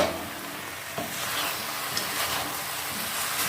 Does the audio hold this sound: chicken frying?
yes